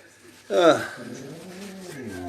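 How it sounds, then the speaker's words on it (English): A dog close by gives one sharp, loud bark, followed by a drawn-out, softer whine that trails on for a couple of seconds. "My dog's going loopy again. Can you hear him?"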